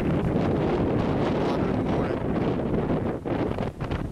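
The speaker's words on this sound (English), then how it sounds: "It's breezy right now." Cold wind buffets the microphone on a Great Smoky Mountains trail near a shelter, a loud, continuous rushing roar that gusts and dips briefly near the end.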